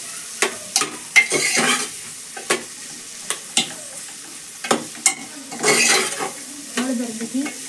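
Undhiyu vegetables being stirred in a pan with turmeric and salt: a string of sharp scraping and clattering strokes, close and fairly loud, over a light sizzle, with no talking.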